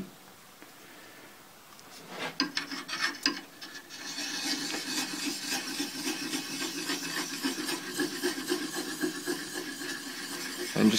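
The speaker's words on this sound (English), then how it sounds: "use a less coarse stone on it" A planer blade is rubbed back and forth on a fine sharpening stone, starting after a quiet moment as scattered scrapes, then a steady gritty rasping that continues to the end, close and moderately loud.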